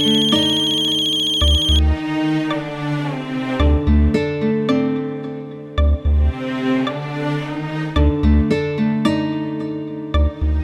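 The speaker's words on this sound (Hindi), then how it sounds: "किसका फोन था" A phone ringtone plays a loud, bright repeating electronic melody in rhythmic phrases, heard close and alone with no talking.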